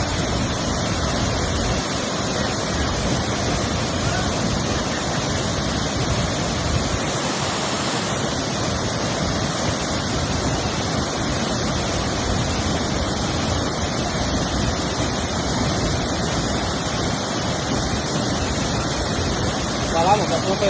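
Cachoeira da Fumaça waterfall near Jaciara, Mato Grosso, rushes as a dense, steady roar of falling water that stays loud and unbroken throughout.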